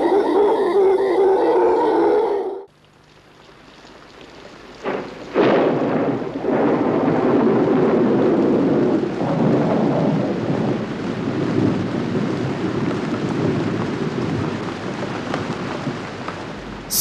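Thunderstorm with heavy rain in a rainforest: a loud roll of thunder opens, then a short lull before steady, dense rainfall returns with further rumbling thunder beneath it, continuous and close.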